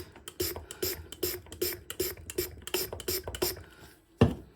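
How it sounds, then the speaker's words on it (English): Short, sharp hissing sprays from a spray bottle misting a mini terrarium repeat in a quick steady rhythm, about a dozen close bursts, followed by a single soft thud. "So I think the first thing to do will be to give it a little spray."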